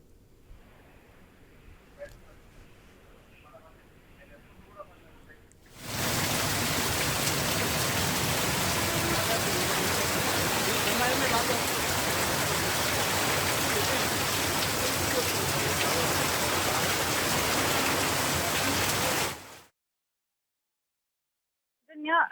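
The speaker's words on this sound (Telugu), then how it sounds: "ఏపీలో వర్షం దంచుకొడుతుంది" Heavy rain pours down in Hyderabad as a dense, loud, steady roar lasting around fourteen seconds, following a quieter stretch and ending abruptly in silence.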